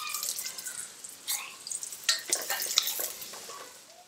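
Ginger with cinnamon and cardamom sautéing in a pan, a sizzle broken by several bursts of stirring and scraping, close and fairly loud with no talking.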